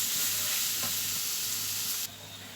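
Minced meat sizzles in a pan with a loud, continuous hiss up close and a faint stir partway through, then the sound drops suddenly near the end as the heat is cut.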